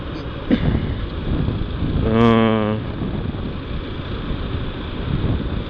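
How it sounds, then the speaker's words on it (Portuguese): A helmet-mounted GoPro on a motorcycle ride to work picks up a constant roar of wind buffeting and engine rumble, loud and close, with a brief tonal blip partway through. "A câmera ela puxa muito o som da moto, cara."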